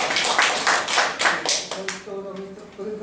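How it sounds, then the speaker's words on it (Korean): Lecture audience applauding in a hall, a dense burst of many hands clapping that thins out over about three seconds while a voice talks over the fading claps. "박수 한번 보내드리죠"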